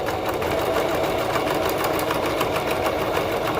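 A serger sewing machine stitches steadily around a bodice, its rapid mechanical chatter running continuously at moderate volume with no pauses.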